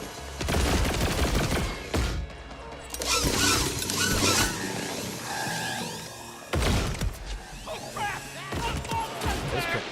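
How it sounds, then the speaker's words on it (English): Grenade explosions and gunfire in the shooter Borderlands 4, heavy booming blasts with debris and crackling bursts in a loud, chaotic battle, with pauses between the big hits and voices mixed in. "Those grenades hit really hard, man."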